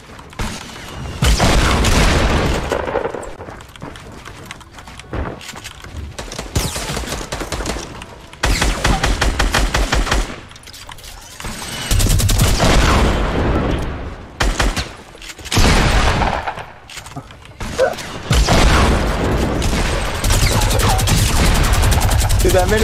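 Minigun fire in the video game Fortnite: long, loud bursts of rapid gunfire separated by short pauses, with a player talking excitedly over and between the bursts.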